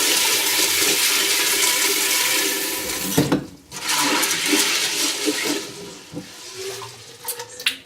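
Tap water gushes loudly into a cooking pot to rinse soaked black beans, a steady rushing pour that briefly pauses, then resumes with splashing and sloshing as the pot fills.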